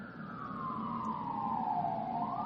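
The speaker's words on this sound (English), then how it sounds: "Y'all hear that? That's the ambulance." A wailing ambulance siren sweeps slowly down and back up in pitch, steady and moderately distant, with no talking.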